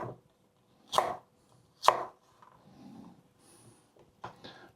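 Knife chopping jalapeño peppers into thick slices on a cutting board, two sharp distinct chops followed by softer scraping and a couple of lighter cuts, close and clear with no talking.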